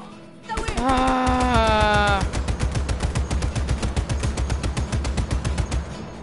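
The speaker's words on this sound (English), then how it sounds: "I'm opening fire." Rapid automatic gunfire in the video game Just Cause 3, a loud sustained burst of fast, evenly spaced shots that starts abruptly and rattles on for several seconds, with a brief rising engine-like whine early on.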